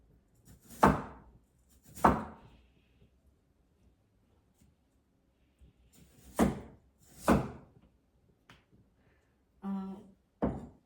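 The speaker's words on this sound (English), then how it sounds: "And then cut those into like cubes." Knife chopping potatoes into cubes on a cutting board, several sharp separate thunks spaced irregularly with pauses between, close and clear, plus a brief clatter near the end.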